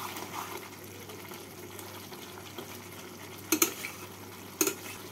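Muro alur ghonto gravy is stirred and dried down in a pan, a quiet soft sizzle and scraping with two sharp clinks of the spoon against the pan near the end.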